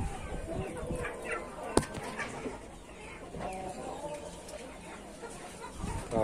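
Chickens and a rooster cluck and murmur close by with a few bird calls and a brief flutter, while a person talks intermittently over them.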